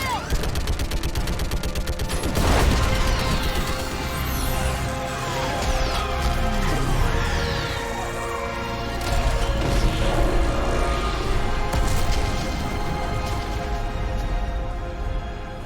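Dense sci-fi battle audio from Mass Effect 3: rapid gunfire and mechanical clatter throughout, with a heavy orbital strike crash near the start and further impacts later, all loud and close.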